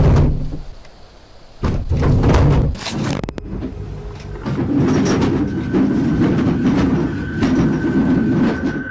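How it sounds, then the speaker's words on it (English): Dishes and crockery rattle and clatter inside a closed cupboard in a clustered burst, with knocking and banging and a sustained rumbling jostle after it, fairly close and loud. "It sounds like all the dishes inside are jumping around."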